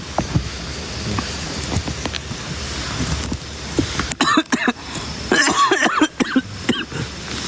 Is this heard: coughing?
yes